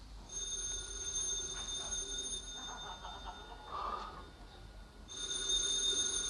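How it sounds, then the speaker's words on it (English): A telephone rings in the sitcom Father Knows Best with a steady electronic bell tone, fairly faint against a quiet room, pausing briefly before ringing again. "The telephone's ringing."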